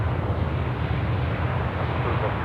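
A Qantas aircraft passing overhead at Sydney Airport, a loud broad steady engine roar filling the moment, close and continuous.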